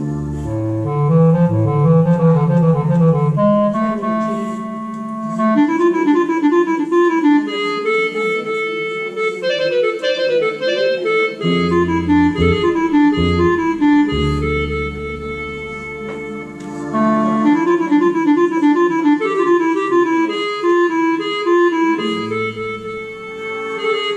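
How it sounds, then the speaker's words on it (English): A clarinet plays a flowing, ornamented melody alone, with sustained reedy notes and short pauses between phrases. "So this is the sound of a clarinet."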